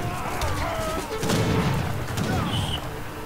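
Gunfire and siege booms from skirmishers and pikemen in an Age of Empires III 3v3 battle, a dense, continuous clatter of shots and heavier impacts over a busy game soundscape.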